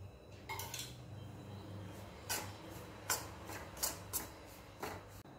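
Semolina (rava) roasting in a little oil in a kadhai for tomato upma, stirred with a spoon: a series of soft scraping and clinking strokes against the pan, close and moderately quiet, with no talking.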